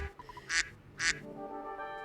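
A person imitates a duck, giving two loud, nasal quacks close to the microphone in quick succession. Soft tonal sounds play faintly in the background.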